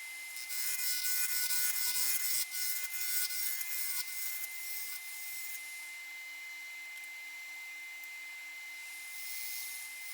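A woodturning tool cuts into a spinning cherry wood block on a lathe, giving a harsh hissing scrape with rough chattering at first, then easing into a smoother, quieter whir from the running lathe.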